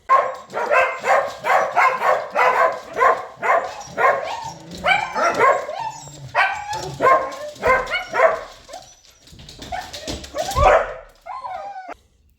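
Corgi barking loudly and rapidly indoors, a long run of sharp, close barks in a quick rhythm mixed with higher yips and whimpers, with a few short pauses near the end.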